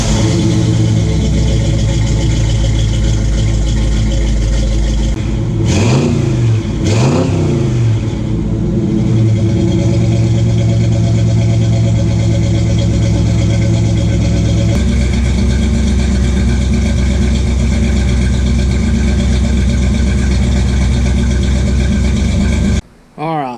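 A 1958 Chevy Biscayne V8 with a newly built universal exhaust kit cranks over and fires, then settles into a loud, steady, deep rumble close by, with occasional revs and some talking.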